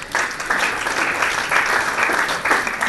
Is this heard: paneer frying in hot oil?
no